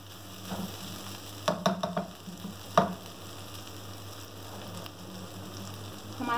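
Capsicum keema with fresh coriander being stirred in a pan, a soft continuous sizzle broken by a few scraping clinks of the spoon against the metal.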